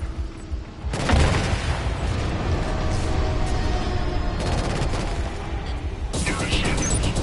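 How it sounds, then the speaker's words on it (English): Loud booming blasts and rattling gunfire in Killzone Shadow Fall multiplayer, a grenade explosion among sustained battle noise, with a voice talking under the din. "It's up, grenade!"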